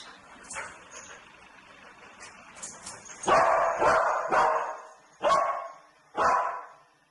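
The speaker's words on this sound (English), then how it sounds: "and then later on you can actually hear the dog barking" A cadaver search dog barks in a series of loud, close woofs, about six sharp barks growing heavier and spaced roughly a second apart after a few softer yips.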